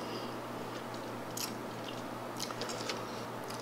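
Someone bites into a carrot cupcake with a crunchy top crust, giving a few soft crisp bites and chewing sounds close to the mic, faint against quiet room tone.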